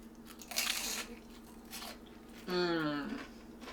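Crisp crunching bites into beer-battered fried catfish, a couple of close, loud crunches with some chewing, followed by a voiced reaction.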